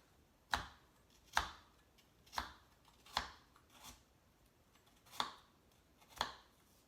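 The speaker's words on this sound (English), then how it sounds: "I'm going to do now is take my small knife, it's very sharp, and I'm just going to cut these apples a little bit smaller." A small, very sharp knife cuts apples into smaller pieces on a board, about seven crisp separate chops spaced roughly a second apart, faint and close, with no talk.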